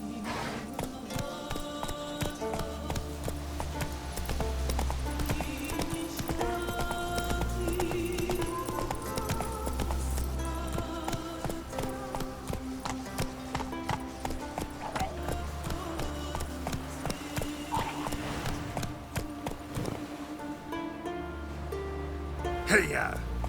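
A horse gallops in The Witcher 3: Wild Hunt, steady hoofbeats running under a dense music score, while a voice urges the horse on.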